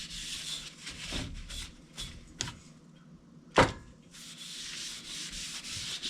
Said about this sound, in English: I have rubbed this thing so much